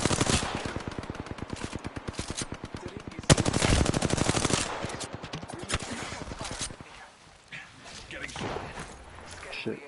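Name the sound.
gunfire in the video game Apex Legends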